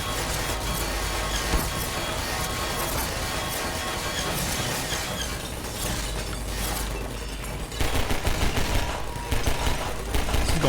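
Half-Life 2 sentry turrets spraying rapid automatic gunfire, a dense crackling fusillade throughout with louder bursts near the end.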